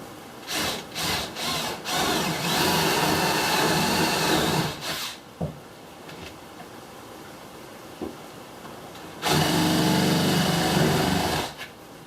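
A power drill whirs in long steady bursts through a teardrop camper's wooden wall, cutting a window opening, pausing briefly between passes, with a few short starts and a final sustained run, close and loud, no talking.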